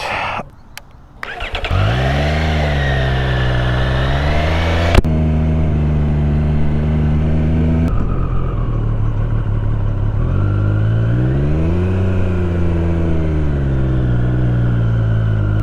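A 2024 Triumph Street Triple 765 RS motorcycle engine revs up and falls back in repeated sweeping waves, loud and close with a steady exhaust drone, with no talking.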